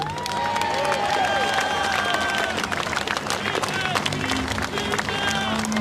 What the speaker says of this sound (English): A round of applause for Charlie.